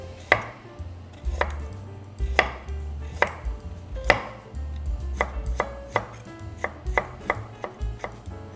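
A knife chops carrot into strips on a cutting board, a run of sharp, close thuds falling in uneven bursts that quicken into a faster rhythm near the end, with no voices.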